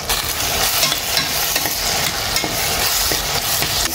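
Onions and tomatoes frying in a pan, a loud close sizzle with steady scraping and stirring throughout.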